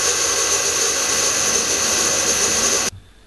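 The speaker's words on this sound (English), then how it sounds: "So that's all the dowel holes drilled out" A power drill bores dowel holes into furniture board, giving a loud, steady whir that holds for about three seconds and then cuts off abruptly, leaving a faint residual hum.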